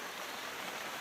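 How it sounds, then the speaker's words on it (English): Heavy rain pours down as a dense, even hiss of countless drops, constant and fairly faint, with no voices or other sounds. "But poor old Eric, it's pissing with rain."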